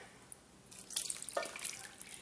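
Water is poured from an emptied coconut milk can into a pot of coconut milk for a Lao pandan rice dessert, a quiet splashing trickle starting partway in and continuing with small drips.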